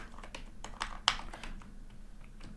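A formula is typed into Power Query on a computer keyboard as a quick run of light, close key clicks in an irregular rhythm, with one sharper tap partway through.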